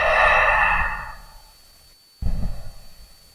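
Slow breathing during a guided relaxation exercise: one long, airy exhale fading out over about a second and a half, a short silent pause, then a fresh inhale starting, close to the microphone with no talking.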